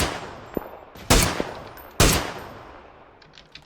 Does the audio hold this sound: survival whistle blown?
no